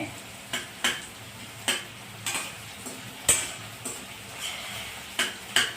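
Onion being sautéed in a pan until reddish, with a soft steady sizzle broken by sharp spatula scrapes and stirring clatters about every half second to second, close and fairly quiet, no voices.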